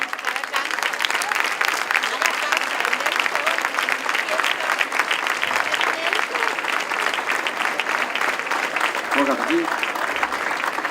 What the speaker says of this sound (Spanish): Un fort aplaudiment per ells, sisplau.